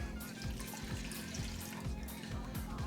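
Water is poured into flour in a bowl for a sourdough dough, a steady watery pour with a faint rhythmic thump underneath lasting a few seconds, close and moderately quiet with no talking.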